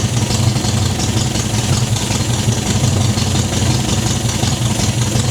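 An old MGB car engine idles steadily at close range while warming up, a continuous low rumble with a slight uneven chug and no voices.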